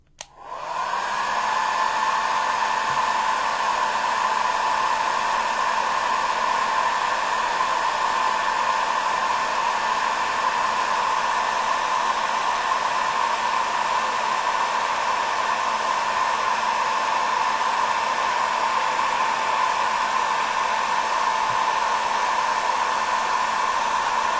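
A hair dryer blows on a junk journal cover, switching on at the start and then running as a steady, loud, continuous whine with a constant airflow hiss for the whole stretch.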